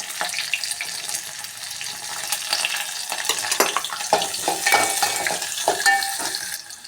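Cumin, mustard seeds, garlic, curry leaves and onion frying in hot oil for an okra stir-fry, a dense continuous sizzle and crackle with scattered pops and stirring clatter, close and steady throughout.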